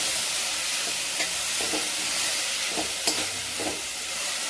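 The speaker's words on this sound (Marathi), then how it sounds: "कांद्याच्या पातीला चांगला हलवून घ्यायचा आहे." Spring onion greens stirred through a hot spice tempering in a pan, giving a steady faint sizzle with soft scraping knocks of the spoon at irregular intervals.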